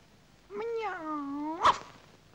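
A voice imitates a cat's meow in a Czech animated film: one drawn-out, rising-then-falling meow ending in a sharper accent, fairly faint and alone.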